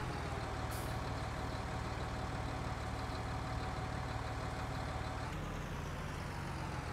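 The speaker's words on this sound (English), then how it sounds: "it does a weird engine rev up thing there" A tractor engine in Farming Simulator 19, running in two-wheel drive, drones steadily at a loud, even level, then its tone shifts abruptly near the end as the rev changes.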